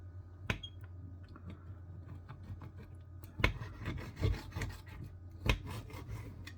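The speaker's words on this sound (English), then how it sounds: "So let's cut into this steak now and then we'll have a taste." Knife slicing through a cooked rump steak on a plate, with a few sharp scraping cuts and soft rasping strokes, close and fairly quiet, no talking.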